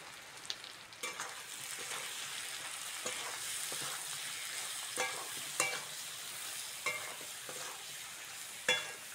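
Potatoes and onions fry with chili, turmeric and salt in a village kitchen pan, giving a soft continuous sizzle broken by sharp stirring clicks and scrapes.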